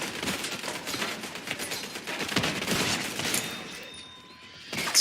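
Bursts of rapid gunfire in a shooter video game, dense crackling volleys for several seconds that fade out, then a sharp new shot at the end.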